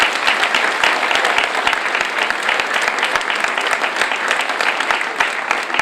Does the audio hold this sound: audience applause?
yes